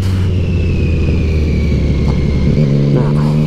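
Motorcycle engine running steadily during a slow riding and braking practice run, a continuous low rumble with a slight pitch shift near the end, close and fairly loud.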